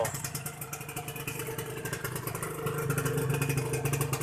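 A red 2000 Honda LS125 motorcycle engine accelerating, a steady close putter with rapid firing pulses that rises and grows louder toward the end, with no voices over it.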